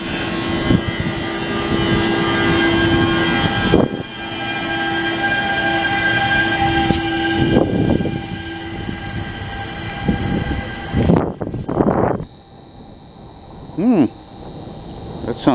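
A hybrid electric commuter train on the Deux-Montagnes line in Montreal running in full electric mode, a steady near rumble with tonal electric whine and brief squeals, fading near the end.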